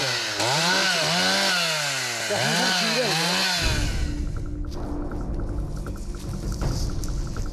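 A chainsaw works on tree felling at a logging site, its engine revving loudly up and down before settling into a steady close cutting roar with rumble.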